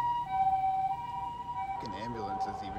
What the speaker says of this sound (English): And ambulances even go slow here.